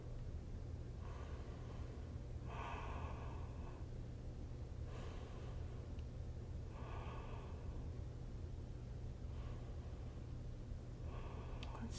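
Deep, slow breathing held during a yoga humble warrior pose, with rhythmic inhales and exhales about every two seconds over a constant low background hum.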